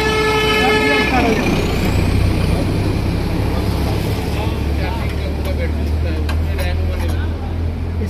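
A hand-crank-started engine on a small van runs loudly and steadily with a dense, rumbling chug, preceded by a brief tonal horn-like sound. Someone talks over it.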